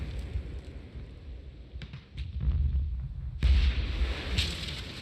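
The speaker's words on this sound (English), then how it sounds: "This is accurate mortar fire." Mortar fire from a war TV series: muffled booming explosions roll in over a low rumble, with a few sharp cracks and a louder blast partway through.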